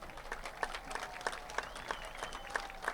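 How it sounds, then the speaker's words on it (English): A crowd at a high school football game between Belle Vernon and Ringgold applauds the Ringgold High School Marching Band, heard as faint, distant scattered clapping with some sharper claps standing out, in a quiet, open-air setting. "let's have a warm applause for the Ringgold High School Marching Band"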